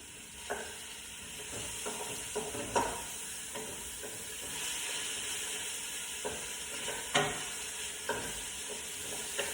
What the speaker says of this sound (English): My mushrooms are in there, and I'm going to stir that up.